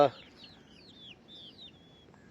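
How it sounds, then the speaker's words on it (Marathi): Chickens cluck softly in a basket in several short calls, close by and fairly quiet, with a faint background hum and no talking. "आज अगदी निवान कोंबड्या आतमध्ये डालक्यामध्येच आहेत"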